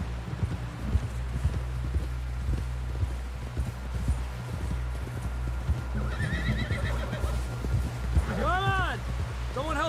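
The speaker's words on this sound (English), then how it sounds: "Help John down off this horse" Horse hooves clip-clop steadily over low wind rumble and talking, then a horse neighs with a loud, wavering whinny near the end.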